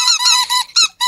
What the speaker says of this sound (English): What the squeaky noise? Make it stop.